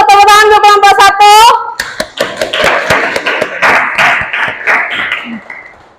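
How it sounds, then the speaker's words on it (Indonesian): A classroom of students claps for a student group, starting with a speaking voice and then a quick burst of sharp, close hand claps that thin out and fade. "tepuk tangan untuk kelompok 1"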